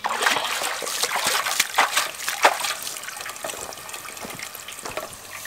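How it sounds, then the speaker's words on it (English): Collected rainwater runs from an IBC tote into a container, a close splashing trickle with uneven gurgles and spatters that settles into a softer, steady flow. "So I'm going to take some of this water out and I'll get the camera so you can kind of see how it fills up."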